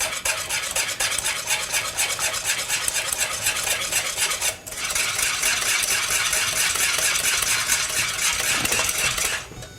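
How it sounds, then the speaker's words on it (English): Elderflower cider custard whisked in a pan on the heat, a loud, continuous metallic stirring and scraping close by, briefly pausing midway and again at the end. "I just want to give that a nice whisk until it's really until it thickens"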